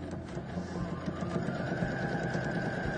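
Sewing machine stitching along a pattern line with a reverse stitch at the end, a steady close mechanical whir running continuously with no talk.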